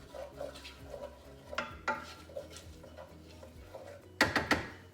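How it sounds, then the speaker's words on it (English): Onions seasoned with salt and pepper stirred in a pan, with a steady run of soft utensil scrapes and taps and a few louder metallic clanks near the end over a low background hum. "And once again, give it a good stir."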